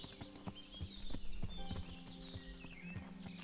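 Horse hooves clip-clopping in Kingdom Come: Deliverance, a quick regular walking rhythm of close, moderately quiet hoofbeats, with faint bird calls behind.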